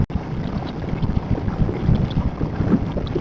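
Steady roaring wind noise inside a Studds Helios helmet while riding on a highway at over 80, a loud continuous rush with gusty swells and no voices.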